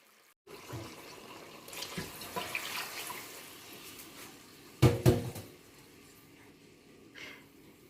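About 1.25 litres of water pours into a cooking pot of tomato sauce for soupou kandia, a soft, quiet splashing stream with a couple of louder clunks of the pot partway through.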